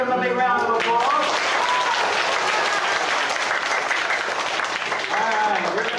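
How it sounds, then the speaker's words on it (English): An audience gives a round of applause for a young helper at a children's school event, a dense, steady wash of clapping that fills the room, with children's voices calling out over it at the start and again near the end. "Everybody give him a big round of applause."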